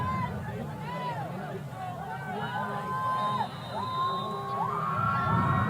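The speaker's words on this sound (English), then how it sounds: "Crowd fired up." Crowd cheering and shouting from the stands at a high school football game between Maplewood and Cochranton, a lively, rising roar heard under a play-by-play announcer talking throughout.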